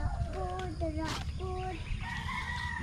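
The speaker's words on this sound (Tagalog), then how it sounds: "Tay mga manok." Several chickens crow and cluck close by in a quick overlapping series, with low background rumble underneath.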